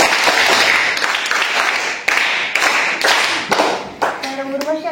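A group of schoolchildren at a primary school quiz claps in unison, loud rhythmic bursts of applause that fade toward the end as a voice begins speaking.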